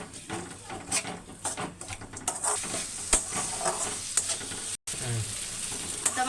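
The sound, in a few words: sautéing red lentils in a pan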